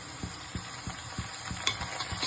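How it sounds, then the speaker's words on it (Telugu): Cumin, chopped onion and curry leaves fry in a pan, giving a steady sizzle with about eight regular soft thuds as the spoon stirs and scrapes, close up with no talking. "ఒక ప్యాన్లో కాయలు తీసుకొని ముందుగా జీలకర్ర వేసుకోవాలి ముందుగా కట్ చేసిన ఆనియన్ వేసుకోవాలి కరపాకు వేసుకోవాలి"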